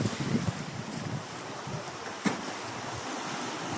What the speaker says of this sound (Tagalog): Kalma pa ang dagat ngayon guys. Yan, kasi low tide.